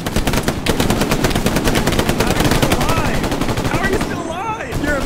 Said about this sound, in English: Oh god, he missed every shot.